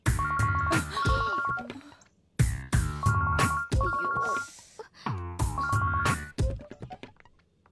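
A phone ringtone plays a repeating melodic electronic pattern in loud, regular bursts, each phrase followed by a short pause.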